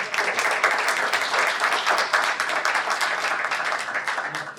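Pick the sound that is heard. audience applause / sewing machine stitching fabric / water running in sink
audience applause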